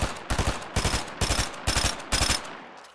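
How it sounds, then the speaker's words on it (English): Rapid bursts of video game gunfire from a shotgun or SMG in a shooter match, with five or six loud volleys of quick shots separated by short pauses and no talk. "Your shotgun makes different sounds the lower it gets, so you can know when to reload. This also happens on the SMG."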